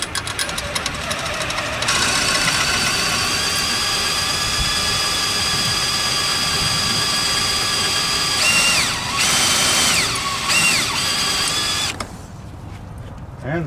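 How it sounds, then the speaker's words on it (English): A loud power drill whines continuously at high speed, drilling out a stripped screw during an RV fridge repair, its pitch shifting briefly mid-way before the motor cuts off near the end. "we're gonna have to drill this out to get it out"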